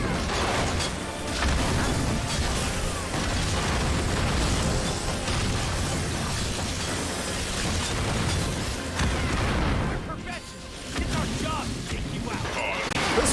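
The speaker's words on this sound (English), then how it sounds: "That's all it is, just some big ass explosions all the time." Dense, continuous explosions and booming bursts from the Ratchet and Clank video game pile up one after another at a loud, busy level with barely a pause.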